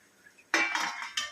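Metal lid lifted off a cooking pan of capsicum vegetable curry, a sharp clank followed by a brief ringing scrape and a second lighter clink, close and clear with no talk.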